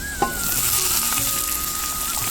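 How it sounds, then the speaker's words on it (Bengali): Chopped ridge gourd goes into a pan of frying potatoes, setting off a loud, continuous close sizzle after a brief clatter, with no voices. "সে কেটে রাখা ঝিঙে দিয়ে দেবো কেটে রাখা সেই ঝিঙেগুলো আমি এর মধ্যে"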